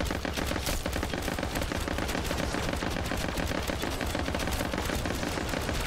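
Rapid, unbroken automatic gunfire from Modern Warfare 3 Zombies, a loud dense rattle sustained throughout without pause.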